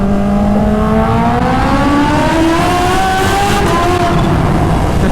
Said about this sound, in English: Oh boy, a tunnel you say? First gear.